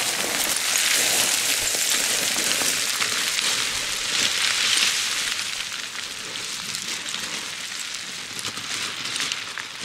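Steady rain falling on a forest hike and bivouac in the Authion massif near the Turini forest, a loud, continuous hiss of drops on leaves and ground, heard alone and only easing slightly toward the end.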